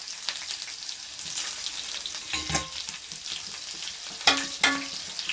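Red chillies, onion and mustard seeds sizzle and crackle steadily in hot oil, with a few sharper pops and clinks of a spoon against the pan standing out above the continuous frying hiss.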